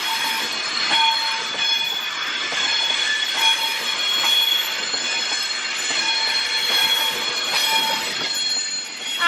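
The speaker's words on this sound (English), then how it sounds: "As 390 for 25 years of Birmingham Pride leaves towards Liverpool Lime Street." A Class 390 train pulls out of Crewe station bound for Liverpool Lime Street, a steady rolling rumble and rail noise with high wheel squeal and tonal whine carrying throughout at close range.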